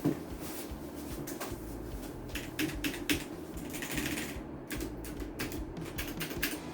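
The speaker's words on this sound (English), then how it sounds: "They say blue switches, tactile keyboard" Steady, fast typing on an HP GK100 mechanical keyboard with blue switches, each keystroke crisp and close, over a low background hum.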